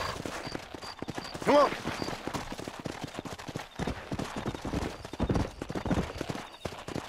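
Horse hooves clip-clop steadily in Red Dead Redemption, with a single whinny early on and someone speaking briefly over the rhythmic trotting.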